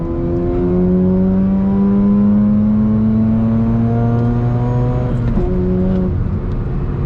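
Mazda RX-8 rotary engine revving hard while driving, loud close rising whine climbing through the gears with brief dips at shifts, no talking.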